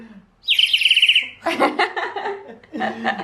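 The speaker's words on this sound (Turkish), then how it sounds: "Kuş evde cik Kuşlar var." Rapid high chirping burst, like a small bird or toy, followed by a voice and laughter-like vocal sounds nearby.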